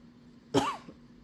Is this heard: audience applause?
no